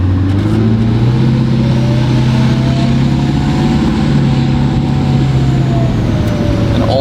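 A Duramax diesel truck with a Valvetronic Designs 5-inch exhaust, valves open, pulls away under throttle, giving a loud, deep, steady engine roar with a faint rising whine.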